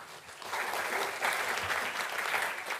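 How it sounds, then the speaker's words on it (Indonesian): Studio audience claps for comedian Sadia Ma'ruf on an Indonesian talk show, a full, sustained round of applause that swells slightly midway and stays strong to the end, with no speech over it. "Tepuk tangan sekali lagi."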